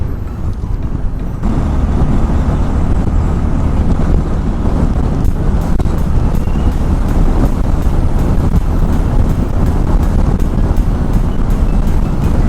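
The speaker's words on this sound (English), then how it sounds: "Sand that is getting blown in the wind" Strong coastal wind on the road from Rameswaram to Dhanushkodi, India, blasting sand against a motorcycle rider, a loud steady roar of buffeting wind and engine with faint gritty ticks throughout.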